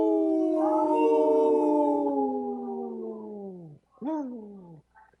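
Wolves howl in a long, wavering call that slowly falls in pitch before cutting off, then a second, shorter howl rises and fades, loud and clear with no talk.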